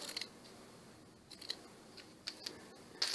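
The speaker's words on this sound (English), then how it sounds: "So I'm going to cut a heart out of that." Scissors cut a heart shape out of light pink fabric, giving a few sharp close snips spaced irregularly over a quiet room background, with no talk.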